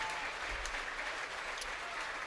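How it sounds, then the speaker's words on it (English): Crowd applause at a high school sports sectional final medal ceremony, an even, moderately distant spread of clapping from the stands lasting a couple of seconds. "He gets a good round of applause."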